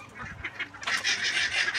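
Ducks kept for sale, three months old, quacking and honking in a brief flock chorus that starts sparse and swells into a louder, denser burst of calls. No one speaks.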